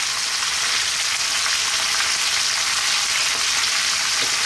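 Lamb browning in a pan with onion and salt, a loud, dense, continuous sizzle close by that stays steady throughout, with faint stirring beneath.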